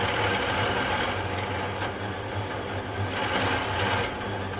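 A delta 3D printer printing fast, its motors giving off a steady mechanical buzz and rattle that holds loud and close throughout, with no voices over it.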